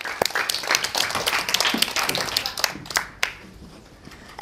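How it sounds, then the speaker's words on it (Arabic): Children applaud at a Day of Knowledge celebration on a kids' show, a scattered patter of many small hands clapping steadily in a room for several seconds before tapering off. "تصفيقة تصفيقة"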